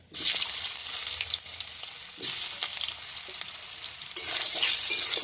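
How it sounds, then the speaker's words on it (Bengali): Boiled potatoes fry in hot oil with steady, loud sizzling and crackling. The sound swells at a few points as the pieces are stirred, and nobody speaks. "আলুগুলো একটু আমি ভেজে নেব"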